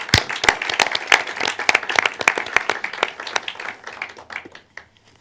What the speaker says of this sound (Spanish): un aplauso, por favor, a los ponentes.